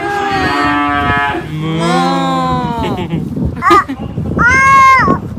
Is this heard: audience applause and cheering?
no